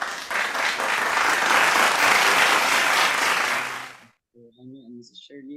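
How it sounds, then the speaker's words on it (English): Applause from an online crowd at an Asia Pacific CheonBo Monday Club gathering, welcoming the national leader of FFWP Philippines for closing remarks; steady loud clapping for about four seconds, then cutting off as a voice begins speaking. "Let's welcome him with our virtual clap"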